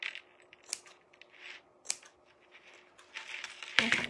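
Scissors snip through old denim jeans fabric in a few separate, close cuts, with quiet pauses between them and a sharper rustle near the end.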